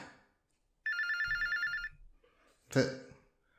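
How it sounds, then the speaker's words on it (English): A telephone in a call center rings with a steady electronic trill lasting about a second, followed later by a louder, sharper ring burst; fairly quiet overall. "listen to all these phones going off from our call center, Lawrence"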